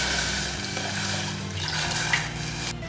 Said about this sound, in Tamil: அடுத்து இது மூழ்கிற வரைக்கும் தண்ணி ஊற்றிக்கலாம்.